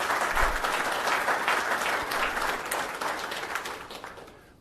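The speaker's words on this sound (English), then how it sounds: "Let's give them a round of applause." Applause for the IT department at an El Cajon council meeting, a room full of people clapping steadily and warmly, slowly fading out over several seconds with no talking.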